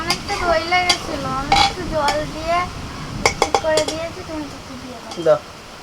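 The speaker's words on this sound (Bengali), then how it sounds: "সব মশলা দেওয়া হয়ে গেছে এবার শুধু হচ্ছে ভালো করে নেড়ে নেড়ে মিশিয়ে নেওয়া" Spiced mutton coated with yogurt is stirred in a pan, a spoon scraping and clinking against the metal in quick repeated strokes over a faint sizzle, close up, with a voice briefly audible.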